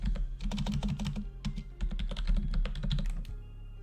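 Rapid typing on a computer keyboard, a dense run of close, fairly loud key clicks in uneven bursts with short pauses, the clatter stopping near the end.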